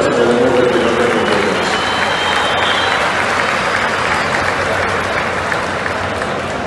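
An audience at a Trocha horse show for senior mares at the Feria de las Flores applauds in a sustained, dense burst of clapping that fades slightly toward the end.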